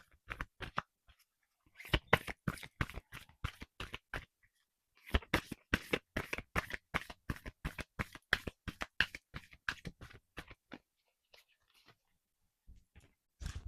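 Cards from a Dharma oracle deck handled in a quiet ASMR setting, with close, soft taps and papery flicks in irregular clusters separated by brief silent pauses.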